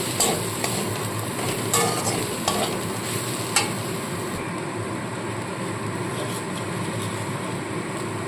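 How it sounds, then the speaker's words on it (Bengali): A potato filling mixed with soybean paste for a vegetarian stuffed pointed gourd dish is stirred steadily in a pan, a continuous close scraping and sizzling hiss with a few sharper utensil clinks early on. "সয়াবিনের পেস্টটা দিয়েও খুব ভালো করে আলুর সাথে এইভাবে মেশাতে থাকতে হবে"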